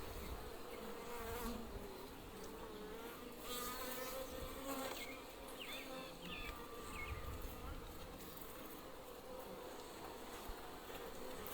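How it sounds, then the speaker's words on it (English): Constant low droning hum of many honeybees buzzing close by on a frame of a long Langstroth hive, steady throughout with faint shifting tones. "More festooning bees."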